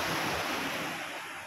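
Ocean surf washing onto the shore by a seaside mountain area in the Dinagat Islands at night, a steady, loud broadband wash with no distinct breaks, fading slightly toward the end.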